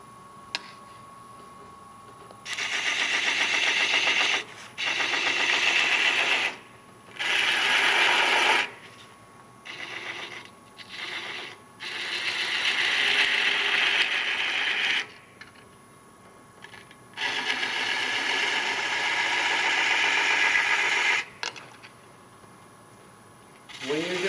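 A spinning wood lathe hums steadily while a detail gouge shapes the wood's branches, its scraping cuts coming in repeated bursts of several seconds separated by quieter pauses.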